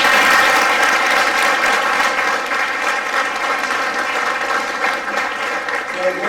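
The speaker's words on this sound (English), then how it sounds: "join me in acknowledging our sincere appreciation to all our speaker, panelists, Ajay ji, by giving a big round of applause" Loud, sustained applause from an audience at an HR round table event in Pune, a dense, even clatter of clapping hands that continues throughout.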